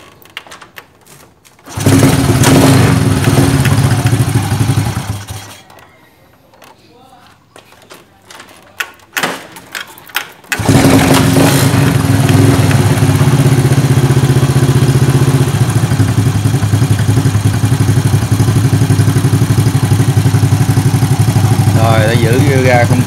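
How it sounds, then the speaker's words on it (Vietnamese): A Honda Dream motorcycle engine starts and idles with a steady low rumble, throttle held open during carburetor air screw adjustment, cutting out briefly in the middle before restarting and running on evenly. "chúng ta sẽ cho nổ máy và chúng ta giữ cái ga cho đừng tắt"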